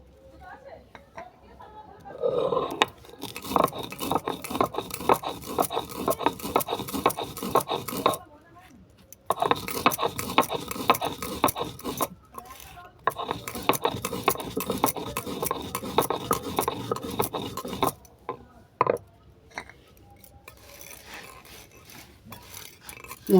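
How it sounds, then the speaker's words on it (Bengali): Spices ground into powder in a grinder: repeated bursts of rough, rasping whirring with short pauses between runs, close and fairly loud, with brief clinks of the container. "ততক্ষণে আমি মশলাটা গুঁড়ো করে নেব।"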